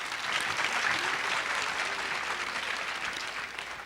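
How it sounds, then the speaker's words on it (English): An audience applauds steadily at the curtain call and finale of a stage show, producing a dense, even wash of clapping that holds at a constant level and eases off slightly at the end. "Round of applause."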